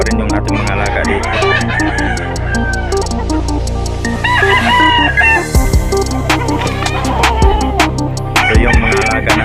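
Pet chickens on a small home farm, with a rooster crowing several times amid steady clucking and squawks from the flock, fairly close and loud against constant background noise.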